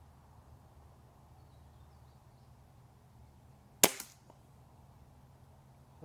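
A single sharp shot from a Remington Tyrant air rifle firing AEA pellets, a crisp crack with a short tail and faint impact echo, standing alone over quiet background hum.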